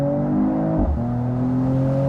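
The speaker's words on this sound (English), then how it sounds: "So once again, Sport Plus mode, and we can accelerate it out, for example, here from 50 kilometers." A Mercedes-AMG E53 convertible accelerating hard in Sport Plus mode from about 50 km/h, its engine note rising steadily, dipping briefly at a gear change, then climbing again, loud and close with no talk.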